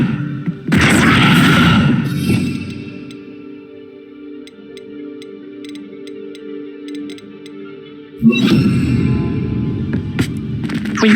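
A Descendo spell cast in the Hogwarts Legacy video game: a loud, dense slamming rush near the start, a low steady hum with faint ticking clicks, then a second heavy burst near the end.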